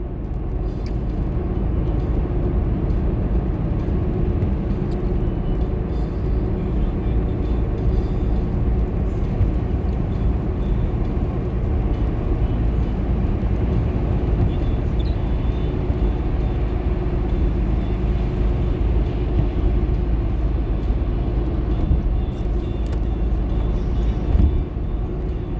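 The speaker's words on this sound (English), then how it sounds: "Traffic today, pretty moderate, guys." Road traffic heard from inside a moving vehicle during a drive in moderate traffic, a steady loud low rumble and road noise running throughout with no talk.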